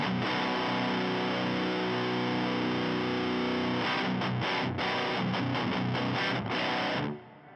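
An electric guitar plays through a hall reverb on a Fender Tone Master Pro. A sustained chord rings into a wash of tail, then choppy strums follow before the sound cuts and decays.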